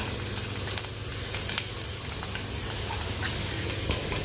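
Cumin, curry leaves and mustard seeds sizzling in oil, a steady close crackle with scattered popping seeds at moderate loudness, no voices.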